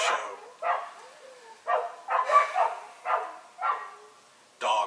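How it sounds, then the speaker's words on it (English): Several dogs bark in a loose series of about seven separate bursts spread over a few seconds. The barks are moderately close and fairly even in loudness, with no one talking. "Dogs."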